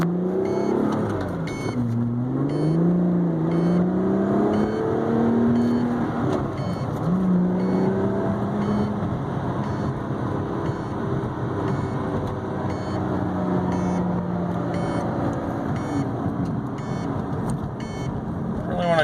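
A salvage-condition 2012 Lotus Evora drives slowly down a road, its engine note steady and close with rising and falling revs as it accelerates gently, the droning tone holding throughout.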